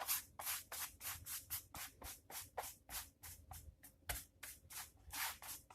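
Second coat of clay coating brushed onto drawing paper in the opposite direction, heard as a steady run of close, rhythmic bristly strokes that rise and fall about four times a second, with no talking.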